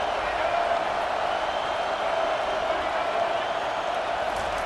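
A stadium crowd in EA Sports College Football 25 roars behind the defense on a big third down, a dense, steady, loud wall of cheering that holds without a break.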